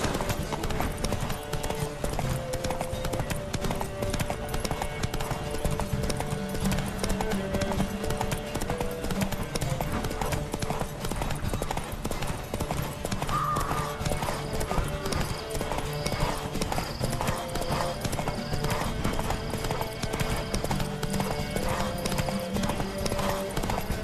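Several horses gallop through a race in The Witcher 3: Wild Hunt, their hooves drumming in a continuous, rolling clip-clop that lasts throughout at moderate level, with an occasional whinny and game sounds layered underneath.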